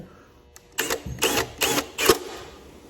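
Four sharp, gritty bursts of grinding in quick succession, loud and close, the last one ending abruptly as the drill breaks through a plastic DeLorean tail lamp lens.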